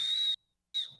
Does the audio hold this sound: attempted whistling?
yes